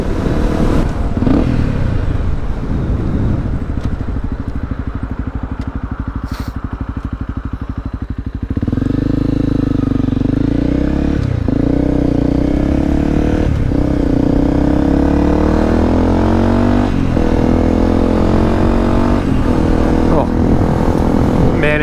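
A Honda CRF250L dual sport motorcycle idles roughly, then pulls away and revs up through the gears with repeated rising engine pulls, loud and close, on a warm night ride.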